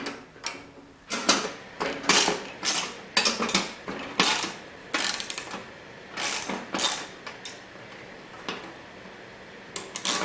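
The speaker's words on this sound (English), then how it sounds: "And finally I'm going to tighten them down with my 1/2 inch" A ratchet with a 1/2 inch socket tightens bolts on a Toro 521 snowblower auger during a bushing and bearing repair, giving repeated bursts of rapid clicking, close and fairly loud, with short pauses between strokes.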